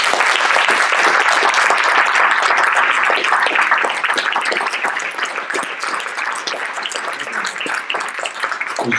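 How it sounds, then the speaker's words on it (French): Conference attendees clap together in sustained applause, a thick, lively burst of many hands that stays loud and even before thinning a little toward the end, with no speech over it. "On peut les applaudir."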